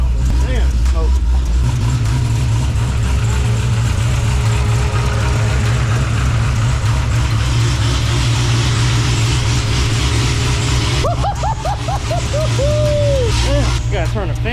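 A Dodge Hellcat race car idles loud and close with a deep, steady rumble through the whole stretch, while people talk over it.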